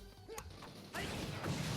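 In the Mega Man video game, a short explosion bursts out as a sharp crash, then a louder, rumbling blast follows and lingers. No voices are heard.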